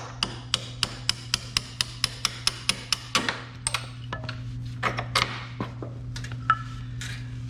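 A hammer taps on the footpeg of a KTM 890 Adventure R motorcycle during a pivot peg install, with a steady run of about a dozen crisp metallic strikes followed by looser, irregular knocks and clinks.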